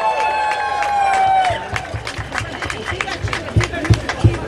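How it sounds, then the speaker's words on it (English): Crowd at an outdoor immigrant rally in a Boston park breaks into applause and cheering, with a steady wash of clapping, scattered voices and a few louder claps, while a whistle-like tone fades early. "Give him a round of applause."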